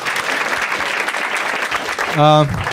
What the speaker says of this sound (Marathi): एकदा टाळ्या वाजवा दोघांसाठी